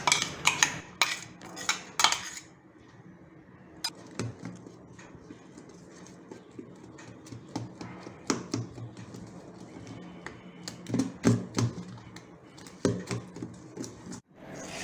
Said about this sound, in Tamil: அதை வந்து தோசை மாவில் எடுத்து அதை நல்லா மிக்ஸ் பண்ணிக்கோங்க.